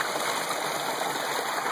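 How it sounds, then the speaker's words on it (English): Water pours steadily from a small fish pond spillway, a continuous close rushing gush with no pauses and no voices over it. "And the water comes from this spillway."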